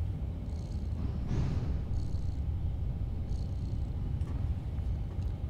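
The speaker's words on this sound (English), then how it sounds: "He's just purring. Do you hear him?" A cat purring up close in the game Stray, a steady low rumbling purr running throughout with faint higher chirps now and then, no talk.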